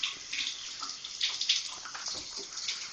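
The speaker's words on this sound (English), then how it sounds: "I like to fill up with hot water first." Hot water runs from a tap into a bucket, a soft steady splashing and gurgling heard close up and fairly quiet.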